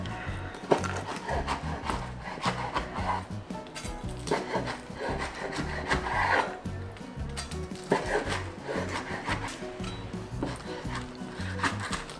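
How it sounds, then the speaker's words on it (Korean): Knife slicing through a flourless chive pancake, giving repeated rough rubbing and scraping strokes with soft thuds against the board, close and fairly steady throughout. "자, 썰어 볼게요."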